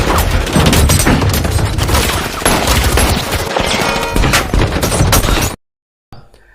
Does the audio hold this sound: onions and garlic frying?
no